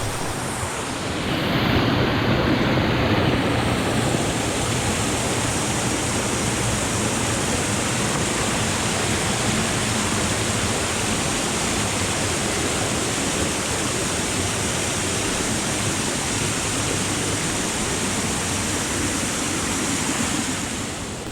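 River water pouring over a weir among old mill ironwork, a loud, steady broadband rush that fills the whole stretch without pause and with no voices.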